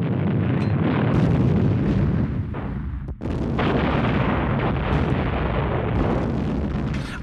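German artillery guns fire in a dense, continuous roar of booms and blasts, loud and sustained with only a brief dip partway through.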